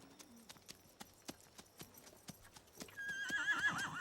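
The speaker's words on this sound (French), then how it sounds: "Tu l'entends hennir?" Steady clip-clop of hooves in a regular rhythm, then a high, shrill horse whinny rises near the end over the continuing hoofbeats, in a Caillou cartoon.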